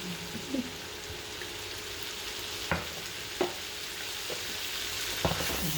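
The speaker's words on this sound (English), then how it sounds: "we continue to stir fry" Vegetable lo mein stir-frying with oyster sauce, an even hiss of sizzling in the pan broken by a few sharp knocks and scrapes of the spatula.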